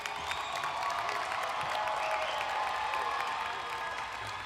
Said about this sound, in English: Please give a round of applause to all our graduates who are here today